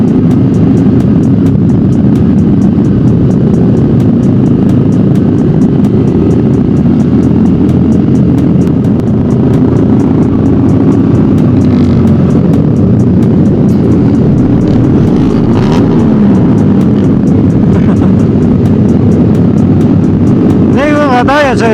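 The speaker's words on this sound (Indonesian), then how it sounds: "Buset, knalpotnya keras-keras banget coy." Loud, continuous engine roar from motorcycles with loud exhausts close by at night, a dense rumbling drone with shifting pitch, a voice briefly audible over it.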